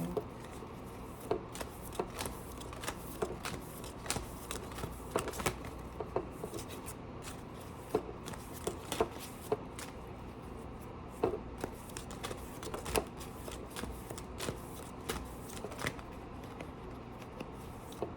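Close, crisp riffling and slapping of tarot cards being shuffled for a collective reading, repeated quick bursts with clicks and flutters, alone without speech.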